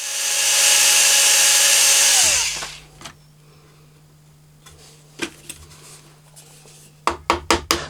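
A power drill whines loudly and steadily for about two seconds while boring small holes in the neck of a scratch-built Les Paul Junior style guitar, then winds down, leaving a low hum and a few sharp knocks and taps.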